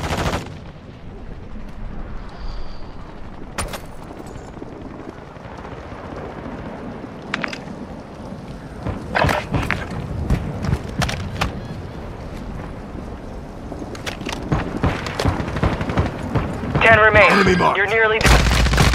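Dense gunfire from the video game Warzone, with sharp shots and bursts that build toward the end, heard loud and close over steady background noise while players shout in between.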